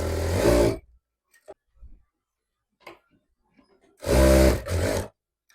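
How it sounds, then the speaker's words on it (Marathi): An electric sewing machine runs a straight seam on a saree petticoat in two short, steady motor bursts at the start and end, with near-silent pauses and faint handling ticks between them. "या दोघांना पण अशी सरळ शिलाई मारून घ्यायची आधी आणि दाब शिलाई सुद्धा मारायची."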